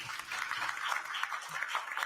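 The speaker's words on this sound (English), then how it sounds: "Give them another applause." An audience at a North Sea energy summit, where the Ostend Declaration was announced, claps in steady, dense applause. Many hands sound together at a moderate distance for the whole stretch.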